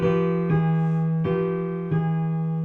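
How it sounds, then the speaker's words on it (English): Piano-like chords sounding a dominant trichord resolving in a Phrygian resolution, three or four sustained chord strikes in a slow even rhythm, clear and alone. "If you did the dominant trichord and resolved it in a Phrygian resolution, it would sound like this"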